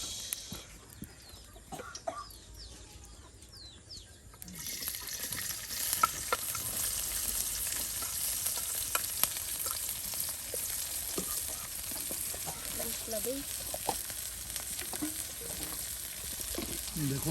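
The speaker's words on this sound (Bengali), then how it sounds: "এখন সব কিছু তেলের সাথে একদম ভেজে নেওয়া হচ্ছে" Ground spice paste, onion, chopped chili and garlic fry in oil for a bottle gourd curry, starting quiet then bursting into a loud steady sizzle with stirring scrapes, while a chicken clucks faintly nearby.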